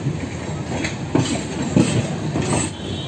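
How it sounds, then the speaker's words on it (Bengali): A passenger train running slowly on the line toward Chandannagar and Bardhaman, heard from inside as a steady rumble with periodic wheel clicks over rail joints. "আমাদের ট্রেনটা এগিয়ে যাচ্ছে"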